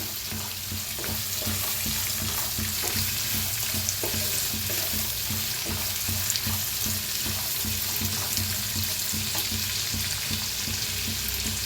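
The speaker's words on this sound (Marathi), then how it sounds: "मटर, तर छान असं भाजून घेते" Peas and carrots roast in a pan with an even, continuous sizzle and frequent soft spatula stirs scraping the pan, with nobody speaking.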